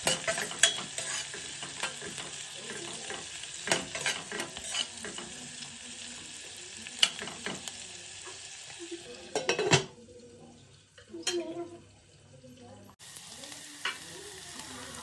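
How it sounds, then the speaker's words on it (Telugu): Onions sauté in a pan for coconut rice, a steady frying sizzle punctuated by scraping stirs and clinks of a spoon against the pan, with a brief quieter gap midway before stirring resumes. "మధ్య మధ్యలో కలుపుతూ మగ్గించుకోవాలి."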